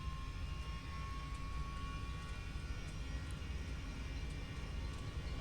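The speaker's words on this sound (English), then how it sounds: "now we're going to go to our takeoff thrust" Boeing 737-800 engines spooling to takeoff thrust in a flight simulator game, a steady broad roar with a thin high whine running underneath, even and unbroken throughout.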